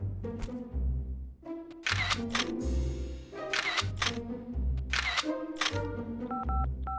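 Repeated sharp camera shutter clicks from a cartoon, several in a row at an uneven pace, over a steady low background hum, ending with a couple of short electronic beeps.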